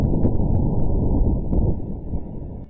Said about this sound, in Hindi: तो ये रहा जी जुपिटर का साउंड।